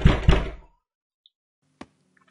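Knocks on a door in a horror video game: two heavy, close thuds with a short decay, then near silence broken by one sharp distant knock.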